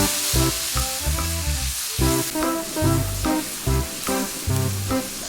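Chili powder and dried chilies stir-fried in red chili oil for spicy crayfish, a steady loud sizzle with repeated scraping strokes of the spatula in a regular rhythm, no voices.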